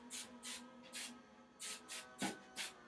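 Seven short hissing spurts of an aerosol hairspray can sprayed while hair is brushed, evenly spaced, close and clear, with a faint hum beneath.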